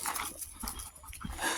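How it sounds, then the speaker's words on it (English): A Belgian Malinois makes faint, close, breathy panting with a few soft whimpering sounds over a short moment, with no one speaking. "He's of a breed, Belgian Malinois, that is capable of running very fast, and he's prey driven."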